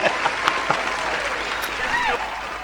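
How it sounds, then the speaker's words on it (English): Studio audience applause on a comedy talk show as a guest is welcomed, a thick, continuous roar of clapping hands with a few louder individual claps and faint whoops or voices underneath. "a big round of applause for Mr. Gibson"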